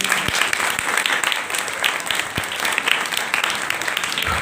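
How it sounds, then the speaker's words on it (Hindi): A crowd applauding enthusiastically at an event in Pakistan, dense continuous clapping that holds steady for several seconds, loud and close with no talk over it. "भैया सब के लिए एक बार जोरदार ताली।"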